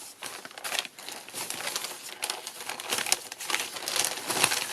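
Scrap paper is handled and crumpled up close, a steady stream of crackling and crinkling rustles that swells and eases over several seconds, with no voices.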